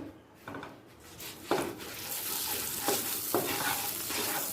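Bay leaves and ground garam masala frying in hot ghee, with a steady soft sizzle and occasional clinks and scrapes of a spoon stirring against the pan.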